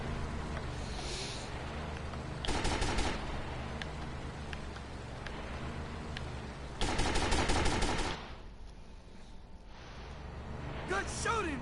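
Bursts of automatic gunfire in Grand Theft Auto: Vice City Definitive Edition, rapid clusters of shots over a steady game background, with a loud volley near the middle and another near the end.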